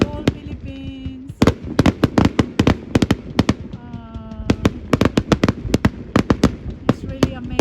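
Fireworks bursting over the Gorleston clifftop in the UK in 2022, a rapid run of loud, sharp bangs and crackling explosions packed closely together, with whistling rockets rising between them and voices faintly in the background.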